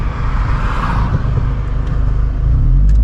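A Seat Leon Cupra's engine drones and builds as the car accelerates through its gears on a single-track road, a loud close interior rumble with shifting pitch and no talk.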